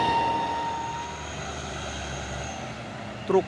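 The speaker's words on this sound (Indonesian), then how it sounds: "Truk Isuzu Giga." Isuzu Giga CPO tanker truck engine labouring on an uphill climb, a steady droning roar heard from nearby, with a brief sharp sound near the end.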